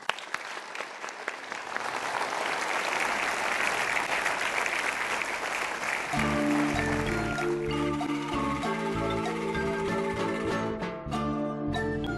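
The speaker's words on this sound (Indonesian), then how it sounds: "Berikan tepuk tangan." Audience applause after a closing performance with an ensemble, steady and full for several seconds before a band starts playing and the clapping continues under the music.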